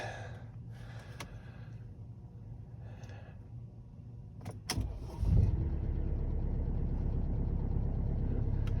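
A Mercedes C200 S204 fires up for the first time in the cold, a brief crank and catch settling into a steady low engine idle up close after a quiet stretch of small handling noises.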